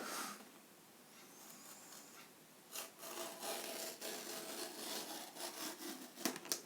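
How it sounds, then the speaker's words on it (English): Rasping, rubbing cuts into a cardboard box with a blade, faint at first and then louder and more continuous in close scraping strokes, with a sharper snap near the end. "And I'm going to cut into this."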